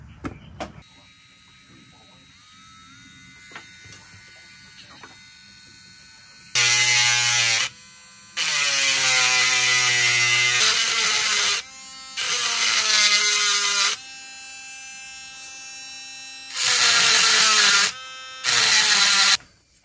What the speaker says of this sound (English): I'm grinding two pins down.